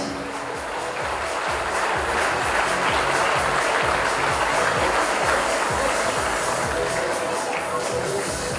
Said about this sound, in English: Dear parents, they truly deserve a big round of applause.